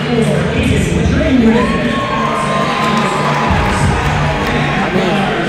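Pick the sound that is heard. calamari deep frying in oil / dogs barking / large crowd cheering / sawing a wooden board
large crowd cheering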